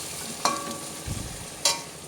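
Fish fries in hot oil with a continuous soft sizzle, broken by two sharp metallic utensil clinks and a brief low bump in between.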